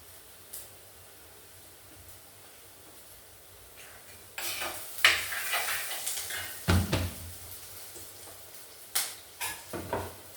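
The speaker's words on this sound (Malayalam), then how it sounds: "ഇത്ര വഴന്നാൽ മതിയല്ലേ, ഒരുപാട് വഴന്നാൽ കൊള്ളില്ല" Ingredients for sardine chilli curry are sautéed in a pan. A soft sizzle starts partway through, with a spoon scraping and clattering against the pan in irregular bursts.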